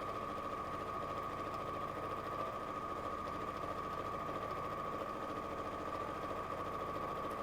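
A sewing machine stitches decorative flower and heart patterns around the edge of a quilted wall chart, giving a continuous, even motor hum with a fast, fine stitching rhythm.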